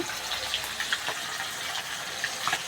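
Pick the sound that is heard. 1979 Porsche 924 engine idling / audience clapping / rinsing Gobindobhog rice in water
rinsing Gobindobhog rice in water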